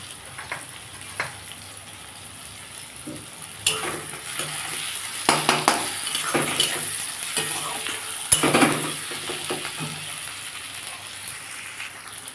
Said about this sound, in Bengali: আমার পেঁয়াজটা ভাজা হয়ে গেছে। আমি এর মধ্যে আদা রসুন পেস্ট দিয়ে দেবো।